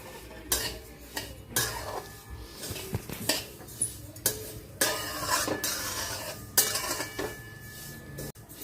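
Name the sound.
roasting sesame seeds in a pan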